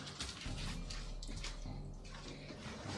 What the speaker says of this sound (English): As the water is flowing from your right to left